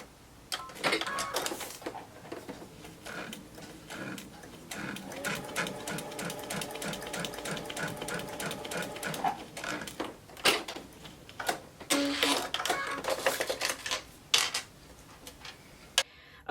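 A sewing machine stitches a quilt block seam in steady rapid mechanical runs, close and clear, pausing and restarting several times with a few clicks and handling knocks between bursts.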